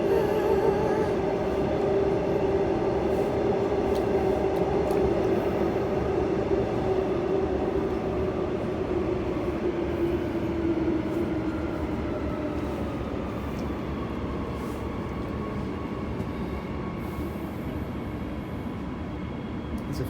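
Steady interior rumble of an empty Perth suburban train on the Joondalup line, wheels and motors droning continuously with a rising and falling whine, close and loud throughout with no talking.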